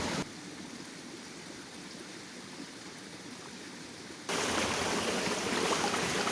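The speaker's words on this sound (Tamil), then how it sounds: "இந்த இடத்துலேருந்து ஆற்றுக்கு தண்ணி போகுது" Water runs from a spot into a river in a steady, close rushing wash that grows noticeably louder and brighter after about four seconds, with no voices.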